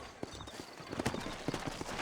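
Horse hooves clip-clopping in Red Dead Redemption, set in New Austin, a moderately close, uneven series of hollow hoof strikes over a soft outdoor ambience with no talking.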